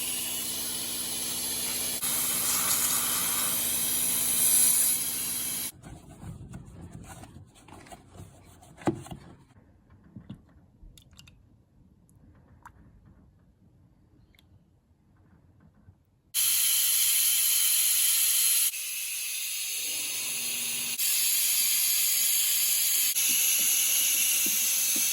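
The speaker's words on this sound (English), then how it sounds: "With my brake fluid sucker, you always start with the brake that's furthest away from the master cylinder first" A pneumatic brake fluid sucker on a VY Holden Commodore during a major service gives a loud, steady hiss of air. It stops partway through, leaves quieter clicks and gurgles while fluid is drawn out, then the hiss starts again, with no voices.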